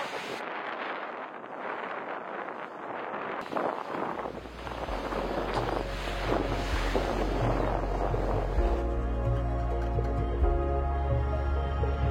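Ocean waves wash around a sailboat far out at sea on a long passage, a steady, close roar of water and wind buffeting that grows fuller, with a low droning hum in the later part and no voices.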